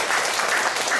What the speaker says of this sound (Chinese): 大家用最热情的掌声来欢迎她